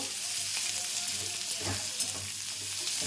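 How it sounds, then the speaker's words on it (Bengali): Onions frying for chilli chicken in a home kitchen, giving a steady, close sizzle with a soft crackle and a few faint stirring scrapes, with no talking. "পেঁয়াজটা একটু ভেজে নেব।"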